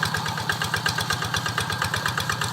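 A farm tractor used for ploughing fields idles with a steady, rapid chugging pulse, close and even, with a metallic rattle over the low engine throb.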